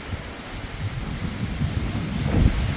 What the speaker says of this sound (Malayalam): മഴയെന്ന് വെച്ചാൽ അസാധ്യ മഴയാണ്.